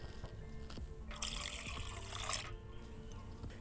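Water is poured into a bowl of egg yolks for a bem-casado sponge cake batter, a steady trickling splash lasting a couple of seconds over a quiet kitchen background.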